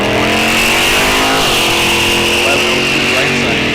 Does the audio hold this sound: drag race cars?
yes